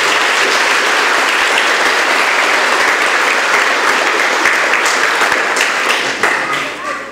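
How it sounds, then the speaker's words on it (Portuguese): Guests at a collective wedding ceremony break into loud, continuous applause, a thick roar of clapping that holds steady before thinning toward the end, with voices and cheers mixed in. "Vamos aplaudir bem forte."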